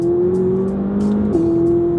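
A McLaren 570GT engine revs hard after a downshift into third inside a tunnel, a loud sustained drone whose pitch holds, dips, then jumps back up near the end.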